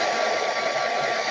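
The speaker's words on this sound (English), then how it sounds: "I am going to do a first heat gun pass" A heat gun on low heat, used on liquid clay, blows with a steady, loud, rushing whoosh of air that holds at an even level throughout.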